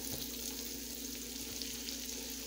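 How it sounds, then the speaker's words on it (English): About three tablespoons of butter melting in a hot pan for smothered turkey chops, giving a soft continuous sizzle and fine crackle at an even, moderate level throughout, with no talking. "now I'm going to add about 3 tablespoons of butter"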